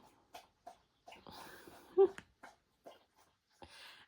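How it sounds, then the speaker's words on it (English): A dog laps water close by in a quiet room, a series of short wet slurps in an uneven rhythm with a few brief pauses. "My dog is drinking."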